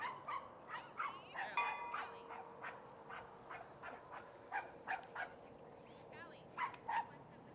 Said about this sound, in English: Definitely the background sounds of a little dog park action.